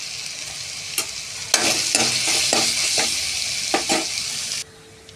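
Ginger paste and green chillies fry in a pan with a steady broadband sizzle, while a spoon stirs and scrapes in repeated strokes. The sizzling drops off suddenly near the end.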